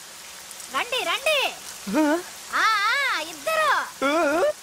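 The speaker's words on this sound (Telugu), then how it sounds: "వర్షం వస్తుంది, తడిచిపోతున్నాం." Steady rain hisses softly in the background while people call out and talk loudly over it.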